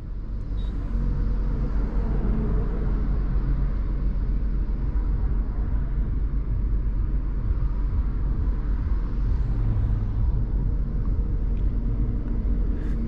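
Steady low rumble of road and engine noise inside a moving Tata Punch, with the faint swell of other vehicles passing outside.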